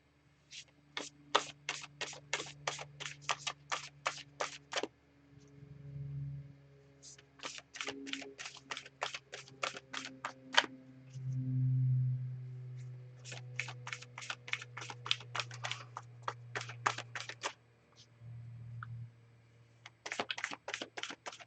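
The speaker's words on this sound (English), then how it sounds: "I think we're shuffled up and cleared for the deck here" An oracle card deck is shuffled in close, crisp bursts of rapid flicking clicks, several runs separated by short pauses, quiet and alone with a faint low hum underneath.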